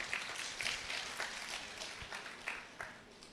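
A gathering at a Kreupasanam church testimony service claps, with scattered, uneven hand claps and small bursts of applause heard faintly and at a distance, plus brief murmuring.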